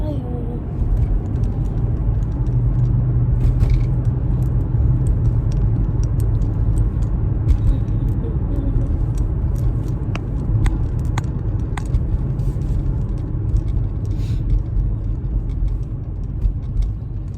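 A car drives on a winter road in Canada after a stoplight, with a steady low engine and road rumble throughout and a few faint clicks and rattles inside the cabin.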